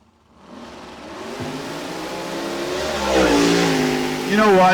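A race car engine revs on a track, rising from a low hum into a loud, climbing whine with shifting pitch, close and steadily growing, with no talk.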